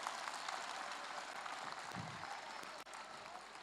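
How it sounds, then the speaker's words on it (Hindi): Applause for a student named Tejas during a leadership development session, a steady, dense wash of clapping that runs the whole way through at a moderate, somewhat distant level. "तेजस के लिए जोर से ताली बजाओ"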